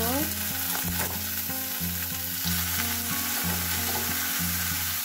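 Boiled pork ribs dropped into a hot pan with sautéed onion and garlic, a steady loud sizzle and crackle with a low background hum throughout.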